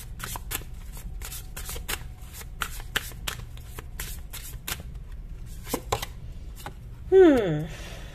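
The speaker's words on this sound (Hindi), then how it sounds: "अदरवाइज आप कार्ड शफलिंग देख सकते हैं अगर आपको पसंद है तो" Tarot cards are shuffled by hand in a steady run of quick, close papery riffles and taps that repeat for several seconds, followed by a brief tonal sweep near the end.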